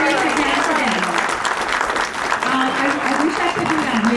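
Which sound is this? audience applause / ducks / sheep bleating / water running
audience applause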